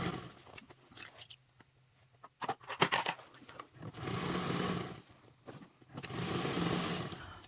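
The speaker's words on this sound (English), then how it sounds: "I like to just quickly reverse over that zipper tape" A sewing machine reverse-stitches over zipper tape while a binded duffle bag is made, giving three loud whirring bursts separated by quieter pauses and light handling clicks.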